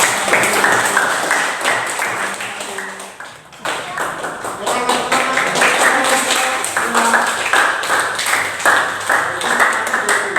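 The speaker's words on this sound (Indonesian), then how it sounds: "kita kasih tepuk tangan untuk kelompok" Applause for a group in a classroom lesson, a steady patter of clapping that dips briefly then resumes, with voices talking and calling out over it throughout.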